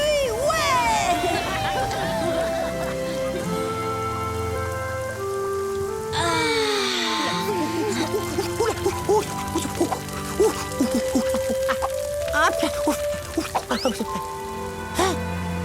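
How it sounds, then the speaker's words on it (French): Rain falls steadily in a cartoon about wolves, a continuous patter running under music and animated character voices throughout. "La pluie, ouais."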